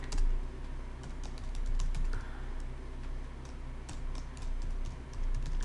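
A computer keyboard clatters with fast, steady typing and crisp key clicks close by, continuous for several seconds with no talking.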